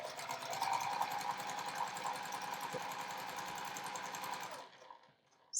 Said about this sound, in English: So I sewed along one side of the line.